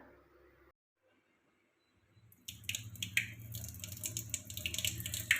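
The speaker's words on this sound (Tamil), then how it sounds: "இப்போ அதை நான் கழுவி காமிக்கிறேன் பாருங்கள்" Hands being rinsed under running water at a sink after applying a dark hair-dye paste, a steady close splashing and trickling that starts after a short silence and continues with small drips.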